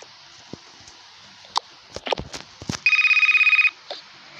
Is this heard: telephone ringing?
yes